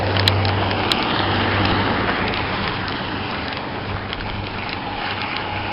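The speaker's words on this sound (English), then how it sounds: "Just waiting for the car noise to pass." A car passes by outside and fills the whole stretch with a loud, steady road rumble and broadband whoosh that fades only slightly toward the end.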